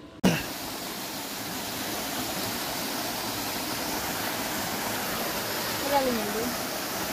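Kuyawyaw Falls in Taytay, Palawan: a constant, dense rush of falling water, close and even, with a brief bump at the start and faint voices underneath.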